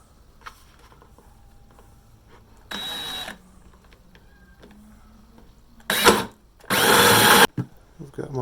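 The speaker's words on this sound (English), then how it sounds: "just simply hole saw these out." A hole saw on a drill cuts corner holes into a plastic 5-gallon bucket. Short, separate bursts of whining, grinding cutting sound come close up between quiet gaps, and the last burst runs longest.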